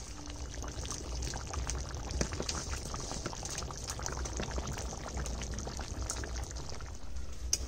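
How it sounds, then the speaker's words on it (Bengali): A little water is poured into a simmering chicken feet curry with stomach and liver, giving a close, steady liquid pour over bubbling and sizzling. "অল্প করে জল দেবো, একদম অল্প।"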